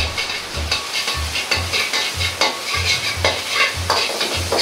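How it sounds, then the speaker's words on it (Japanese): Garlic and ginger stir-fried in a hot pan for a spicy chicken and bean sprout miso dish, with rhythmic scraping strokes of a spatula repeating about twice a second over a constant close sizzle. "にんにく、生姜を香りが出るように炒めます。"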